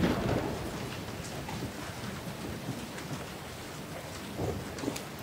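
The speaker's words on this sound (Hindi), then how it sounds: "बारिश आ गई" In the video game Resident Evil 7, rain falls steadily while low rumbles of thunder roll underneath, fairly faint and continuous, with a slightly stronger swell near the end.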